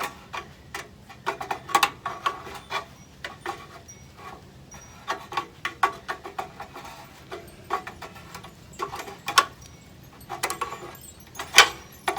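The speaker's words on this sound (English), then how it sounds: "So now I've got my crescent wrench. I'm just going to loosen this up as best I can." A crescent wrench loosens a bolt on the front suspension of a Ford F350, making irregular close metallic clicks, clinks and scrapes in scattered bursts, with no talking.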